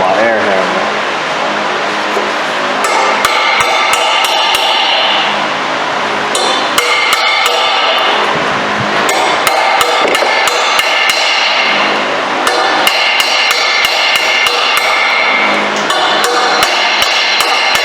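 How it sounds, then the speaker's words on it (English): Repeated metallic hammer strikes ring out in irregular bursts, loud and close, hammering a socket onto a stuck bolt during a Dodge 4.7 engine rebuild, with workshop noise between the blows. "I'm gonna try to hammer in a torch socket now"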